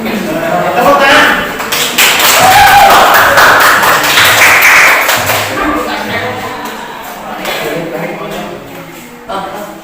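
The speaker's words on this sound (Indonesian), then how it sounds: "Tepuk tangan." Classroom audience clapping for a presenting student group, a dense burst of applause rising over the first few seconds and gradually thinning out toward the end.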